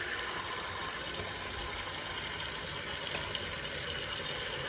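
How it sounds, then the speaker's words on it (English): Tap water runs steadily into a bowl being filled to wash Honeycrisp apples, a continuous close hiss and gush with no talking. "I'm just filling it up with water and using some lemon essential oils"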